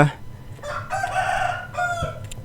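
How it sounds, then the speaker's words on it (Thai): Rooster crowing inside a Roblox horror game, two drawn-out harmonic crows, loud and close, with game audio and a voice in the background. "ไก่มันก็ขยันขันซะเหลือเกินนะ"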